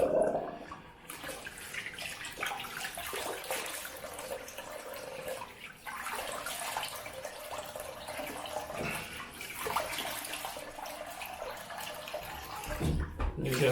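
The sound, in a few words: rinsing off with water after shaving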